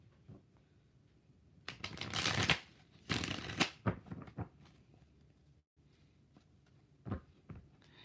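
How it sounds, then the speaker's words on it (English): Tarot cards being shuffled by hand, several close riffles and flutters in quick bursts separated by soft taps and pauses, quiet overall, with no voices. "4 shuffles."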